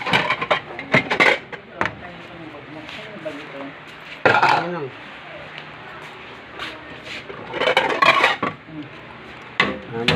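A metal ladle clanks and scrapes against a pot while scooping soup made with snails, catfish, sweet potato leaves, eggplant and crab, in a few sharp bursts separated by quiet gaps, with people talking nearby.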